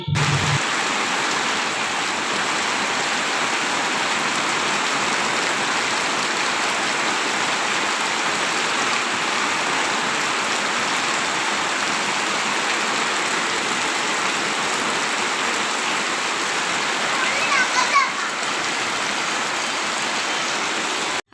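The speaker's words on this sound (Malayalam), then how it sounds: "പെരും മഴയാണ് കേട്ടോ പെയ്യണത്" Heavy rain pours down outdoors, a dense, steady roaring hiss that holds at an even loudness for over twenty seconds with no voices.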